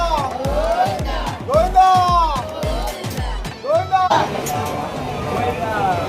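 Crowd of pilgrims queued at the Tirupati Balaji temple, a dense hum of many voices and shouted calls close by, with rhythmic chanting or calls repeating in the first half.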